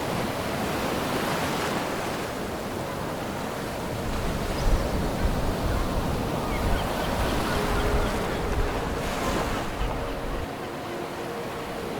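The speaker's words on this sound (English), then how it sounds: "Ahead, nothing but open ocean, the steady rhythm of rolling swells stretching out to the horizon" Open Pacific Ocean off Alaska heard from a sailboat: a continuous broad rush of wind and swells washing past the hull, loud and steady with gentle surges throughout.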